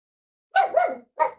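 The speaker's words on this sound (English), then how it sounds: "My dog likes to bark at different stuff." A pet dog gives two or three short barks close by, sharp and loud bursts separated by a brief pause, in an otherwise quiet room.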